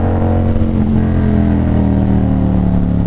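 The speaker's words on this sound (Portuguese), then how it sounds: "a moto chega a dar pipoco" A Yamaha MT-07 motorcycle engine runs loud and close with a steady, throaty drone throughout, holding high revs without clearly distinct backfire pops.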